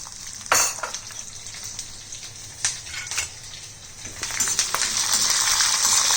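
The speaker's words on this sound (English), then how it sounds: "and saute this till golden brown" Ginger, garlic and green chili sautéing in hot oil with cumin seeds, a steady close sizzle with a few sharp spatters and stirring clinks that grows louder and denser toward the end, with no talking.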